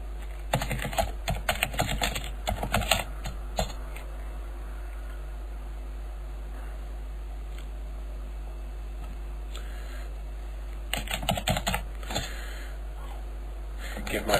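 Password typed on a computer keyboard, two bursts of rapid close key clicks at the start and near the end, separated by a quiet stretch with a low background hum.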